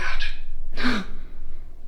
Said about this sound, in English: Are you mad that I sneezed?